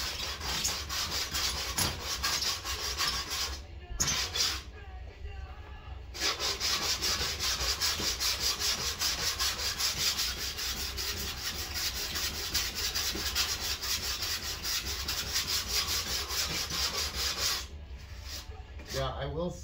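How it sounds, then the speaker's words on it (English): Steady rasp filing on a wooden skateboard deck being hand-shaped, a continuous rough scraping with quick back-and-forth strokes, close and loud, broken by two short pauses. "Started with the saw, went to the rasp, so I'm getting close."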